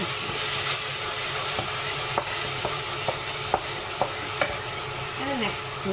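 Chicken biryani masala sizzling and frying in a pan, with a spoon scraping and stirring in scattered taps and strokes over a steady hiss.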